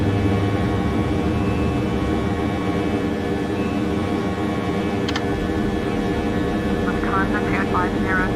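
Jet engines of a Lufthansa Airbus A320 in Flight Simulator X hold a steady, loud roar just after takeoff, with a voice speaking over them.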